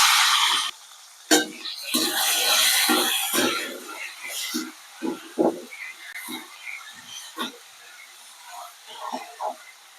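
Two large chopped onions sautéing in a pan for chicken kuzhambu, an opening hiss followed by a close series of short sizzling bursts and stirring scrapes, irregular and fading toward the end.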